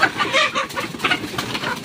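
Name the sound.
chickens clucking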